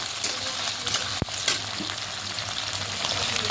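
Onions frying in oil with cumin for a fish-bone curry, a steady close sizzle with a brief sharp clink of a utensil near the start.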